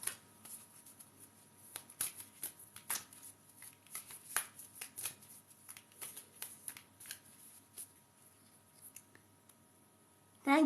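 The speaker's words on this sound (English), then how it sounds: "we'll shuffle the moon cards" Quiet, close shuffling of oracle moon cards, soft repeated riffling and flicking sounds in an irregular rhythm, with no talking.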